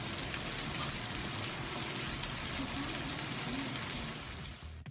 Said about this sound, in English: you're going to go ahead and saute on each side for about 5 minutes